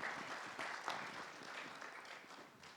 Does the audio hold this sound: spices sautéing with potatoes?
no